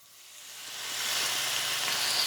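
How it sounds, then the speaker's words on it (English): Vegetables sautéing in melted butter in a pan over medium heat, a steady sizzle that swells louder over the first second and then holds, close and alone with no talk. "we're just gonna saute these until they are tender"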